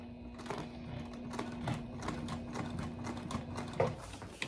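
A sewing machine stitches a fabric snack pack with an uneven rhythmic clatter at close range.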